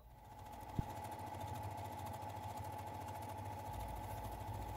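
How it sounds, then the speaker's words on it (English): A sewing machine stitches the casing edges on a fabric drawstring pouch, running as one steady, close motor whir with a single sharp click near the start. "We place the casing directly over the buttonhole and sew each edge about 1/8 of an inch."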